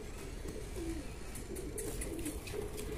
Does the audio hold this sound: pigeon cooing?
yes